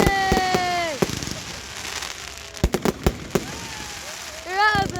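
At a firework display, rockets whistle with rising and falling tones, followed by a quick run of sharp bangs and crackling pops, all loud and close.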